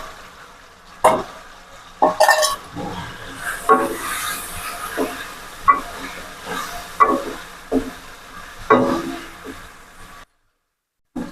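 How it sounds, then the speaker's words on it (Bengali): Fried small potatoes are tipped into a cooked-down curry masala and stirred, giving a loud sizzle and hiss with sharp spoon scrapes and knocks against the pot, then a short silence at the end. "এর মধ্যে আমি এই যে আলুগুলো যে ভেজে রেখেছিলাম আলুগুলো দিয়ে দিলাম"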